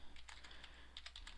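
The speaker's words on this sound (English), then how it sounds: "I'm gonna type this one because it's easy to type" Typing on a computer keyboard in a quick, light run of close, crisp key clicks over a low steady hum, with no talking.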